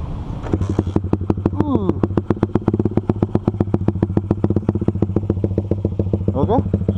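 A 2001 Honda Nova Sonic motorcycle idles with a loud, steady engine and exhaust burble made of rapid regular pulses, close by, with brief faint voices in the background.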